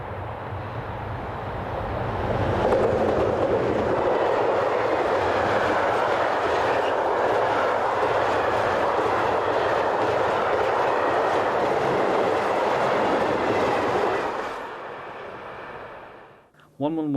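Two electric locomotives rush past hauling a southbound freight train on a European main line, a loud sustained roar of wheels and wagons building quickly, holding steady, then fading as the train clears.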